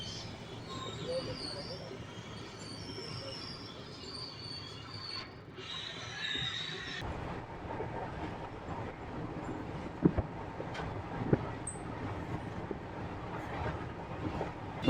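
A Hubli to Sindhanur passenger train rumbles past at Gadag Junction, with steady rolling wheels, rail clatter and occasional sharp clicks, all fairly faint and distant.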